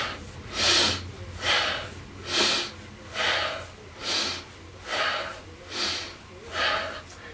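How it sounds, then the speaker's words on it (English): Slow, rhythmic breathing during yoga shoulder shrugs: seven loud, airy breaths spaced about a second apart, close to the microphone, with no talking. "It's left shoulder for the inhale, right shoulder shrugs up for the exhale."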